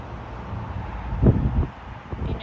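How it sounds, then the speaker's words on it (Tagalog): Gusty wind buffets the microphone outdoors at a cherry blossom flower festival, a low rumbling rush that swells briefly in the middle, with no talking. "Kaya lang mahangin."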